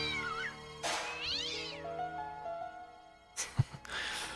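A cat meows in the Broken Sword game, with a few drawn-out, wavering meows that rise and fall, clear and close, and a couple of soft thumps at the end.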